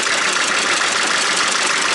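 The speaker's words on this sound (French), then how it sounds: "Il a monté avec un moteur de tracteur de 25 chevaux." A 25 hp tractor engine fitted to a vintage machine at a potato festival runs steadily, a loud, dense, even mechanical roar with no let-up and no talking.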